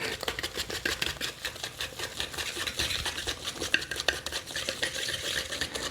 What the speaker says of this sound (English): I'm going to whisk this up.